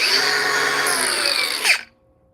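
A Milwaukee 3672-21 power tool runs at high speed with a bright, whining motor, loud and close, then is switched off and spins down abruptly to silence.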